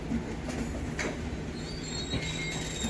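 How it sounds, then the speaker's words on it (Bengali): The Amta local train rolls into a station on the South Eastern line near Howrah, with steady rumbling wheels, a continuous low drone and occasional thin wheel squeals, heard at moderate distance without voices. "পাশেই ঢুকছে আমতা লোকাল।"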